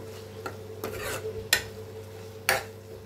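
Dry fish curry with chilli powder cooking in a pan, a spoon scraping and knocking the metal a few times in short bursts over a faint low sizzle, close and quiet, no one speaking.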